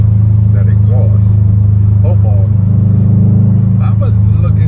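A car's exhaust drones deep and loud from inside the cabin while driving, a steady low rumble with a brief shift in pitch midway, under a person talking.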